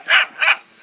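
Dogs barking at a run-down house with a zinc roof, two loud, close barks in quick succession with a short pause between them.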